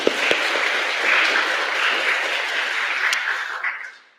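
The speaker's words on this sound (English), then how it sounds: "Everybody, round of applause." A church congregation applauds during a Sunday service to thank the musician. The clapping is loud, dense and sustained, then tapers off quickly at the end.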